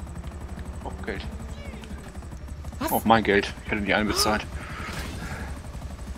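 A helicopter in GTA 5 Online drones steadily with a low, throbbing rotor hum throughout, while someone talks over it in German.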